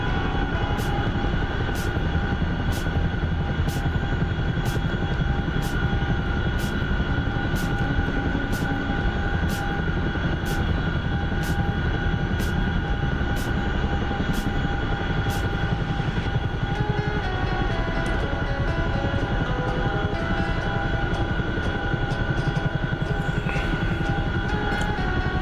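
An overloaded Chinook helicopter in a video game gives off a dense, loud, unbroken rotor and engine roar, with a faint regular ticking running through the first part.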